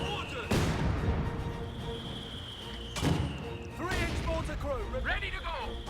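Mortar and artillery fire in Company of Heroes 2, a British versus Wehrmacht match: several heavy booming blasts with rumbling tails, one near the start and others later, mixed with smaller crackling impacts over steady battlefield noise.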